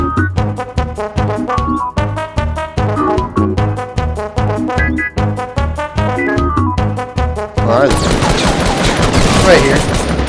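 Rapid automatic LMG fire in the Fortnite video game, loud and sustained bursts with steady repeating shots, ending in a denser wash of explosive noise; a voice can be heard speaking over it.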